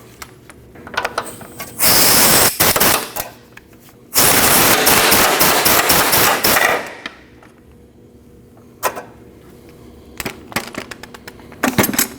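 A ratchet clicks rapidly in long bursts while removing a 17mm nut from the front lower control arm of a 2003-2008 Subaru Forester, close and loud, followed by scattered slower clicks and taps.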